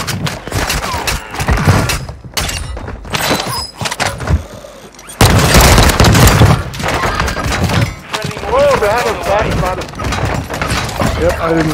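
Gunfire in the video game Warzone 2, loud rapid bursts and thuds from an MP7-style weapon throughout, mixed with game effects and players talking over it.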